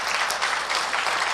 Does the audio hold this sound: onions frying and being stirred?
no